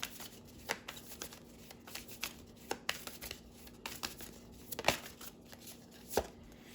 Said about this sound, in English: I'm going to pull one from the Moonology deck